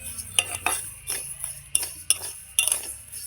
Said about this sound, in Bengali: মিক্সড করে নিলাম